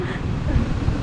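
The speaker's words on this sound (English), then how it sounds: "It's windy, guys." Gusty wind roars and buffets the microphone in a dense, continuous rush, outdoors at Lambasingi in Andhra Pradesh, India.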